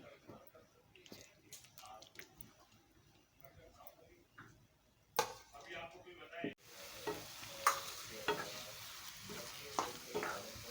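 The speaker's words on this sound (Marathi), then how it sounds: "आता व्यवस्थित आपण हे वांग त्याच्यामध्ये आता मिक्स करून घेऊया" Mashed roasted eggplant and roasted onion are stirred in a pan for bharit, giving soft scraping and clicking spoon strokes, quiet at first and then a louder sizzle with repeated stirring knocks, under a speaking voice.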